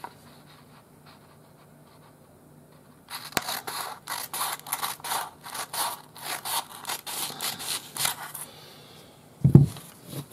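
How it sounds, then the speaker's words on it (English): Scissors cut fabric along a chalk line while a quilt piece is being made, starting after a quiet pause as a run of crisp, rhythmic snips close by, ending with a soft thump. "And we're going to cut along that line"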